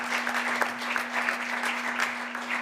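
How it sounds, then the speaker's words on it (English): A conference audience claps steadily for a couple of seconds, a close, even patter of many hands over a faint electrical hum. "Applause for Sarah"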